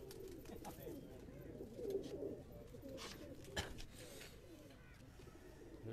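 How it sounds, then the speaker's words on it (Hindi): Pet pigeons on a Karachi rooftop coo softly in low, rolling phrases, with faint rustles and a sharp tap partway through, all fairly distant and quiet. "ये हमारे जो सीनियर उस्ताद खान मोहम्मद साहब का ये शौक, इंतहाई शौक का कबूतर है"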